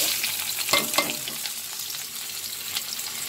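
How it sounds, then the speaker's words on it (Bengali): Chopped onion and garlic fry in a pan, crackling in a constant close sizzle broken by a few quick stirring scrapes and taps, with no voices. "পেঁয়াজ রসুনটা একটু ভালো করে পুড়িয়ে নেব, হালকা পোড়াবো বেশি পোড়াবো না"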